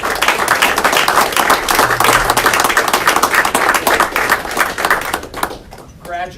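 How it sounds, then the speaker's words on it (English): A graduation crowd claps for the newest chaplains of the United States Air Force, brisk close applause that tapers off toward the end, followed by a voice speaking. "Let's have one more round of applause for the newest chaplain of the United States Air"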